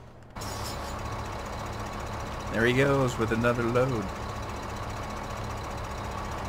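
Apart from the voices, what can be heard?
vehicle engines running in Farming Simulator 2015 video game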